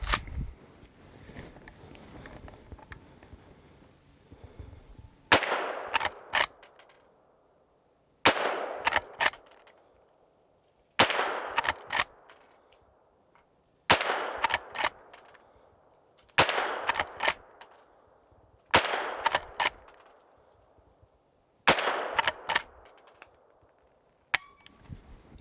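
A Henry Big Boy lever-action rifle fires about eight spaced shots at steel targets outdoors. Each sharp crack is followed by a ringing clang that decays, with a few seconds between shots after a quieter opening.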